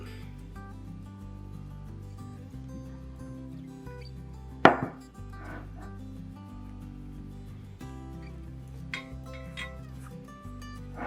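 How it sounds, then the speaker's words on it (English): A single sharp knife chop through rolled bread dough on a board, loud and close, followed by a few softer taps amid quiet kitchen background. "then you chop the ends and fold in the butt"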